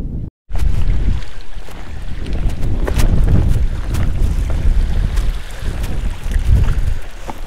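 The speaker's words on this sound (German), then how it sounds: "Der Wind hat wirklich brutal zugelegt." Strong wind buffets the microphone on the Mediterranean coast while fishing, a loud continuous roar with gusting low rumble throughout, after a brief dropout at the start.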